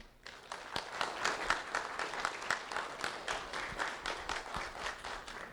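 Audience applause at an award ceremony, a dense, sustained patter of many hands clapping that swells quickly and holds steady for several seconds, fairly close and with no talk over it.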